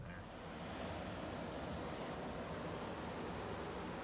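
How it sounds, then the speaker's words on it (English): Atlantic Ocean surf washing onto the shore, a steady broad roar of waves with some wind buffeting the microphone, continuous and fairly close throughout. "There's the Atlantic Ocean."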